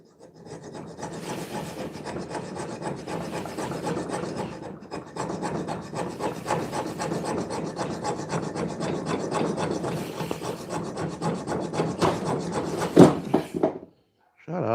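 A metal file rasps across a freehand-forged dagger blade in continuous back-and-forth scraping strokes, close and steady for a long stretch before stopping abruptly near the end.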